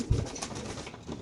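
A pigeon at a pigeon farm gives a single brief, soft, throaty coo, close by and alone.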